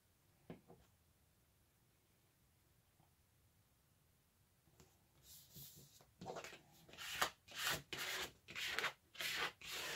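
A card is rubbed back and forth over paper to smooth it down on a handmade lapbook, the close, dry scraping strokes coming in a steady rhythm after a quiet start with a few faint taps.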